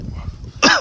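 A dog gives a single sharp bark, close and loud, at the very end after a moment of low room noise.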